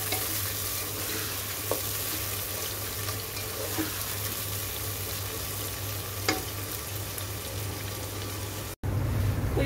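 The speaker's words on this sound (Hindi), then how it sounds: "प्याज को हमें अच्छे से गोल्डन ब्राउन कर लेना है।" Onions frying in oil for an Uttar Pradesh style mutton shorba, a steady close hiss and sizzle with occasional scrapes of stirring, then a brief cut near the end; no speech.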